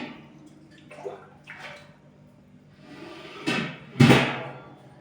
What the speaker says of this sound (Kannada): ಸ್ವಲ್ಪ ನೀರು ಹಾಕ್ಕೋತೀನಿ ರೀ.